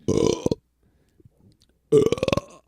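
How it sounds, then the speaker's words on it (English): A loud, drawn-out belch rumbles up, followed after a pause by a second long, croaking burp; faint shuffling fills the quiet gap between them. "can muster up a belch, we'll let you hear it"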